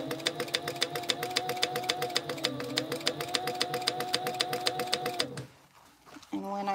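A sewing machine stitches across a seam in a fast, even run of mechanical needle beats over a motor whine for about five seconds, then stops, followed by brief handling noise and a short restart.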